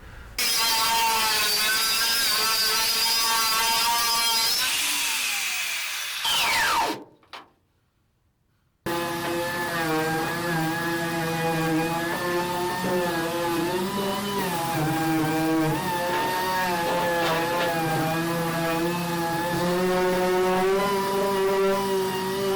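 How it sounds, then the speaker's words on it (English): Steady grinding whir of a power sander working the metal sides of a truck bed, cutting out briefly for a pause, then resuming its continuous rough buzz. "finish off the sanding in the sides"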